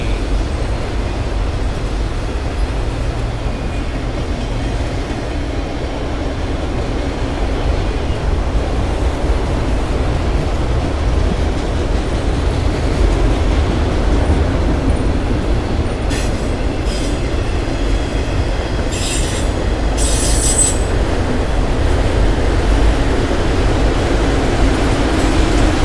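A Norfolk Southern freight train rolls past with a DPU locomotive in the consist, a loud continuous rumble of wheels and cars with clickety rail rhythm and brief high wheel squeals near the end.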